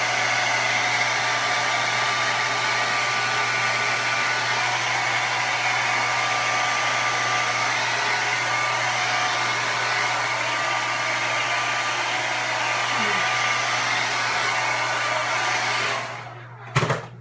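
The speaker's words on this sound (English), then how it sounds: "I'm going to go in with my blow dryer" A hair dryer blows steadily and loudly with a constant whirring hum, then cuts off abruptly near the end.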